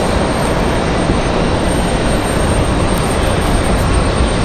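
A Frontier airliner painted in the America's Greenest livery at Raleigh-Durham airport, its jet engines giving a steady, loud, broadband roar that holds without a break, with no voices.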